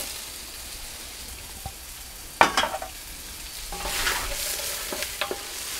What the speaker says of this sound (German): Nach dem Fleisch können wir dann die Zwiebeln anbraten.